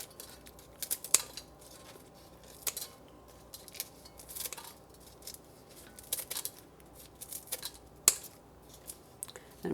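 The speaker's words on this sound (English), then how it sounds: "I'm gonna use my scissors to help me break it up." Scissors snipping through cooked bacon in a pot, a series of sharp, irregular metallic clicks and snips at close range over quiet kitchen background.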